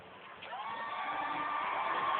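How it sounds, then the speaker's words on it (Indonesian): A studio audience claps and cheers for a mustached political pair, Gus Ipul and Pak Dekarwo, on a political talk show stage, a steady, fairly distant wash of crowd noise that swells slightly and holds throughout. "Kita kasih tepuk tangan pasangan berkumis, Gus Ipul dan Pak Dekarwo."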